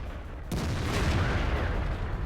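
A tank's main gun fires in the World of Tanks video game, a single sharp boom about half a second in, followed by a loud rumbling tail of battle noise that lingers.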